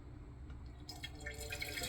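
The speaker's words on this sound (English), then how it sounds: "if you can hear it, the water's filling up because the float lifts up and it stops that valve" Water refills a toilet tank after a flush, a quiet, steady hiss and trickle that swells noticeably partway through as the inflow strengthens, with no one speaking.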